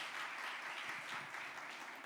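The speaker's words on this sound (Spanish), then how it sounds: "Un aplauso para las personas nuevas" Applause from a church congregation welcoming newcomers, a steady dense wash of many hands clapping at moderate level throughout.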